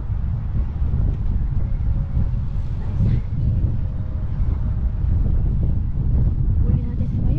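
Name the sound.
strong wind while cycling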